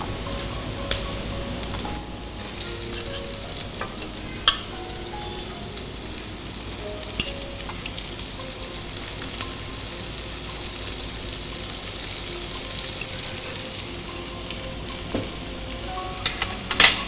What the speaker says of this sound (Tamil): எறாவை நல்லா சுத்தம் பண்ணிட்டு இப்போ நம்ம எற போடுறோம்